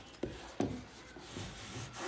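A blade pushes and scrapes through fabric wallcovering around an electric switch, two sharp close thumps followed by soft rubbing, rasping strokes against the wall surface, with no voices.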